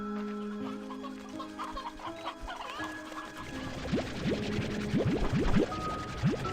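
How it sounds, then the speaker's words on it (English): Stony hens clucking in the farming game Slime Rancher, a series of short repeated clucks rising over a steady tonal music bed, fairly close and moderately loud. "raise the next set of these stony hens"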